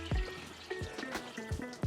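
Coolant trickles and drips from the water pump of a 1967 Pontiac GTO, a faint, close liquid dribble with a few soft splashes over about two seconds.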